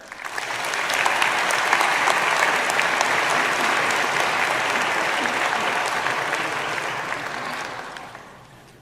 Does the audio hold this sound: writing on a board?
no